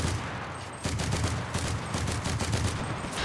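Heavy battle gunfire in the video game Enlisted, set in a Pacific War campaign, with dense overlapping rifle and machine-gun shots crackling continuously and loudly, close and far together.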